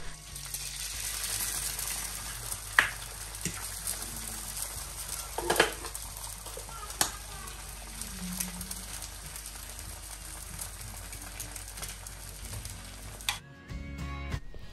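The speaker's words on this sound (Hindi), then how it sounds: "1 अंडा बेटी के लिए जो है वो फ्राई कर रही हूँ, 1 अंडा अपने लिए फ्राई करूँगी।" An egg fries in a pan with a steady, close sizzle and occasional light clinks, then the sizzle cuts off abruptly near the end.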